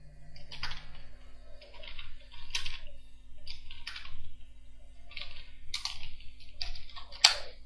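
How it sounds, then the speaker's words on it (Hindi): Computer keyboard typing while a heading is entered into a spreadsheet cell, with short clustered bursts of light key clicks separated by brief pauses and one sharper final tap, close and clear without speech. "मैं हेडिंग टाइप कर रहा हूँ एक"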